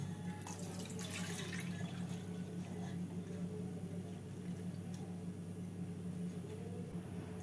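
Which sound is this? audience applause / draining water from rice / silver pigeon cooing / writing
draining water from rice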